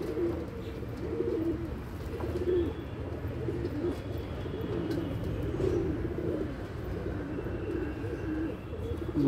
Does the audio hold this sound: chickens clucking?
no